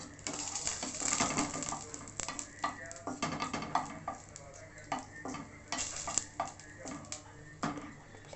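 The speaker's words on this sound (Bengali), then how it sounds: "এটাকে হালকা ফ্লেমে একটু ভেজে নেবেন।" Spices fry in a pan over a low flame, a close sizzle broken by repeated scraping spatula strokes that come in short uneven bursts against the metal.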